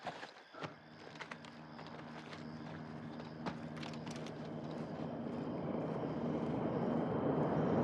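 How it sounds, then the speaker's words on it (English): A helicopter approaches in Call of Duty Modern Warfare 2 on PS5: a rotor and engine roar swells steadily louder over the clip, beneath scattered footsteps, clicks and battlefield clatter, with no speech. "Got a heli incoming."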